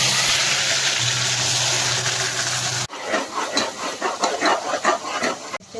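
Ginger-garlic paste fries in a pan with coconut and onion paste for a country chicken curry, giving a steady close sizzle that gives way to a run of stirring and scraping sounds.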